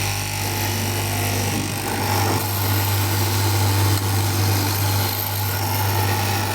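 A large garment-factory cutting machine slices polo shirt pockets with a steady loud mechanical hum and low drone, running continuously with faint rattling.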